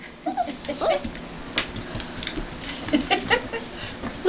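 Four-week-old German Shepherd puppies whimpering and yipping in short, scattered high cries, close by, with faint background noise.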